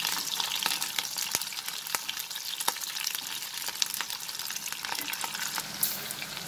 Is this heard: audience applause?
no